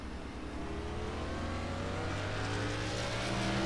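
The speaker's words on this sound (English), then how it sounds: "And back up to speed through the gearbox" A Cup race car on a Las Vegas track accelerates back up to speed through the gears, its engine note loud, close and steadily climbing in pitch without a break, with no talking.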